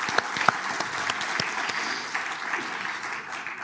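A tech conference audience applauds steadily, a dense wash of clapping at moderate volume with no voices over it, sustained for a few seconds.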